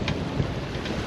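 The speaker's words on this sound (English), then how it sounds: "This is definitely well above 20-mile-an-hour winds." Strong wind well above 20 mph roars over a heeling sailboat out on the water, a loud, continuous rush with buffeting gusts close to the microphone.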